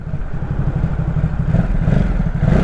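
A 2019 Ducati Supersport 950 motorcycle engine runs close by with a rapid, throbbing pulse and popping, rising slightly in intensity, loud and alone.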